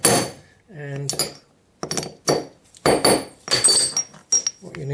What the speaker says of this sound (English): A few good whacks.